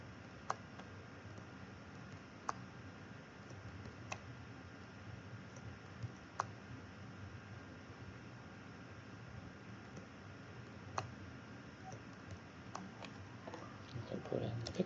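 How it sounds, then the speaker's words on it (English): Sharp, isolated mouse clicks, some close pairs like double-clicks, sit over quiet room hiss and a low murmur while a person holds Control in a web code editor. "So I'm holding Control and I'm double clicking here."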